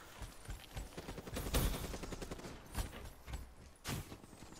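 Rapid gunfire from a Call of Duty Black Ops 3 multiplayer Hardpoint match: several sharp, loud bursts of shots, some clustered, fairly close and with no talking over them.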